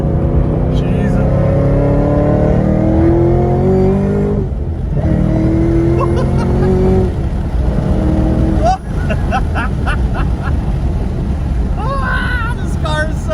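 A 650 hp Chevrolet Camaro ZL1 1LE accelerates hard in second gear through a corner, its engine note rising loudly, dipping at a shift, then roaring on, with people talking over it.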